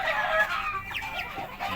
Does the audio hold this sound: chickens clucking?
yes